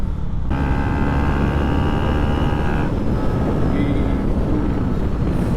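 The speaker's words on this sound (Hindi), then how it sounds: "भाई बहुत तगड़ी यहाँ पे भगा रखी है मैंने बाइक अपनी" A modified KTM Duke 250 motorcycle ridden fast on the road at around 110 km/h, its engine a steady droning hum buried under heavy, constant wind roar across the microphone.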